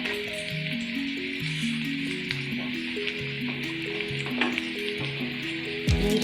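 Spices such as coriander, cumin and poppy seeds frying in a pan for mutton gravy masala give a steady, soft sizzle throughout, alongside faint background music tones.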